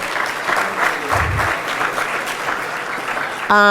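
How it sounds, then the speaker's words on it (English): A town hall audience applauds representatives of Union Pacific at an emerging leaders event, a steady round of clapping with a low voice briefly underneath and an abrupt tonal sound cutting in at the very end. "If you all could give them a round of applause, that would be great."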